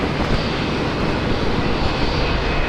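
Airbus A330 airliner at Brisbane Airport, a steady broadband jet roar that holds loud and even throughout without any voices.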